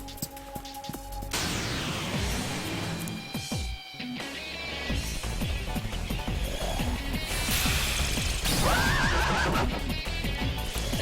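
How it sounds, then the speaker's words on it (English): Horse death cry from the Digital Devil Saga 2 video game, a shrill whinny amid dense, loud battle effects and crashes that repeat over several seconds, with no talk. "You're gonna hear a lot of that horse death sound."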